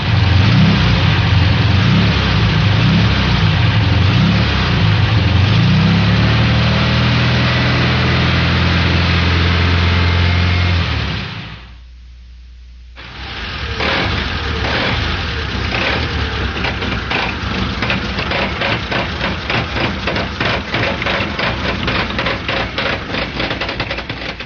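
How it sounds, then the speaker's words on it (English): Volkswagen air-cooled engine running smoothly and loud for about eleven seconds, then after a short pause the same engine with a loose flywheel, its roar now broken by a rapid, rhythmic knocking clatter. "Let's listen to a normal engine followed by one with a loose flywheel."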